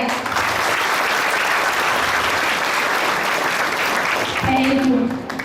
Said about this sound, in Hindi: और हमारे महागुरु और गुरु के लिए जोरदार तालियां हो जाएं